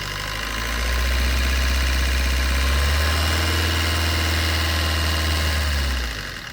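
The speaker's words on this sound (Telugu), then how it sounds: "ఇప్పుడు సార్ కొంచెం ఎక్సలరేటర్ ఇవ్వండి." A Maruti Suzuki Dzire ZDI diesel engine, heard up close as it runs and is revved with the accelerator, produces a steady, loud low rumble with a knocking edge. It holds for about five seconds before easing off at the end.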